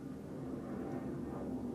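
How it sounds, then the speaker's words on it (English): Airplane passing overhead fairly loudly, a steady broad rumble that fills the whole clip at an even level with no talking. "there's a plane going over quite loudly"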